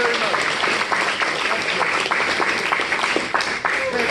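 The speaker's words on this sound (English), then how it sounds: "Round of applause." A live improv comedy audience applauds steadily throughout, a dense wash of clapping from many hands, loud and close, without a break.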